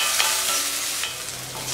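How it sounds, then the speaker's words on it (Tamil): Shallots, garlic and vadagam sizzle and fry in a pan for a South Indian Brahmi leaf kootu, a steady close hiss with light scraping as a utensil stirs them, and no voices. "இது நல்லா ஃப்ரை ஆகட்டுங்க."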